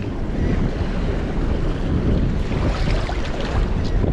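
Heavy ocean waves churn and crash continuously, mixed with loud wind buffeting the microphone.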